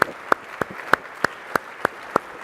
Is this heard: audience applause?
yes